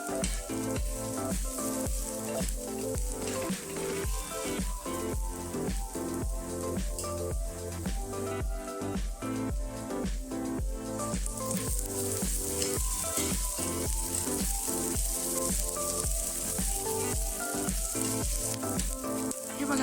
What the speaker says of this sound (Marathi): याच्यामध्ये थोडस तेल टाकू म्हणजे कांदा आपला पटकन भाजून